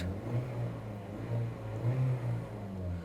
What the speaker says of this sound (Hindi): सबसे पहले मैं गाड़ी को स्टार्ट कर लेता हूँ।